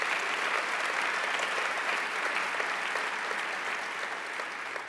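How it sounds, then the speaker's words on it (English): Sustained, dense applause fills a large civic hall during a mayor's State of the City address, steady and loud from start to finish with no talk over it. "give them a round of applause"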